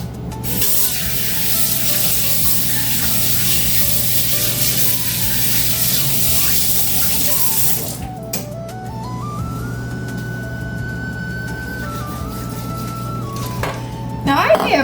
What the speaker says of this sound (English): Let me go wash my hands.